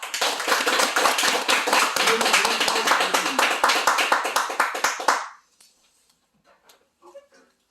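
An audience at an event claps to welcome a speaker, with loud, close, distinctly rhythmic handclaps for about five seconds. The clapping then stops abruptly, leaving near silence with a few faint sounds.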